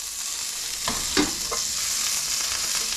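Asparagus browns in a hot pan with a steady, close sizzle and a few soft knocks as it is moved or stirred.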